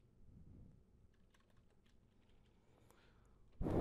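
Code is typed on a computer keyboard, quiet scattered key taps over faint room noise, followed by a louder thump at the very end.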